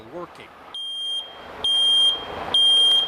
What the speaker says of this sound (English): It should be a working smoke detector